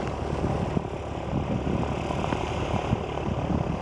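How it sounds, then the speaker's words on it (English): A Tecnam P2006T propeller airplane takes off in snow at CYOO, a steady, fairly loud engine and propeller roar holding level throughout with no talking. "Snowy Tecnam takeoff"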